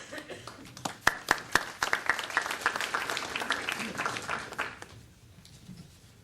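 Sparse, scattered clapping from a small audience at a police regionalization forum, a handful of distinct claps at first thickening into a modest patter before fading out.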